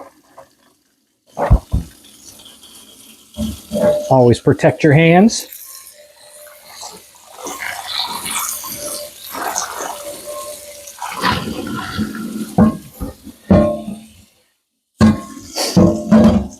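Hot running water pours and splashes into a cast iron pan for several seconds, with a voice speaking briefly before and after.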